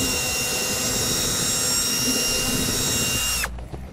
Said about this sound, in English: I'm gonna drill an access hole through this panel